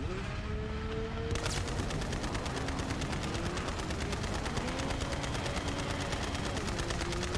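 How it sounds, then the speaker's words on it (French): Rapid automatic gunfire in the video game Borderlands 3, aimed at a vehicle's axle; dense, evenly spaced bursts fire continuously and loudly over a steady game backdrop. "Attendez, faut que je tire dans l'essieu."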